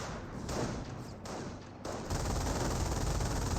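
In Company of Heroes, sustained machine-gun fire rattles against an infantry half-track, a dense continuous burst of gunfire with a brief lull before it resumes, steady and mid-distance.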